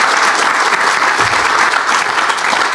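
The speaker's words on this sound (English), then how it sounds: "she deserves a round of applause." An audience at an agricultural field-day farmer panel gives a full round of applause, a loud, dense and steady wash of clapping from start to finish.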